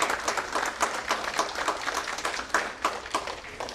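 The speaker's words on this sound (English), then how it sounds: "So big round of applause to all the moms." An audience at a children's cultural event claps steadily, with many scattered hand claps making a continuous moderately loud patter with no talk.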